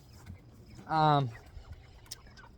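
A single broiler chicken on a farm lets out one short, loud cluck near the middle, with faint background noise and quiet rustling around it.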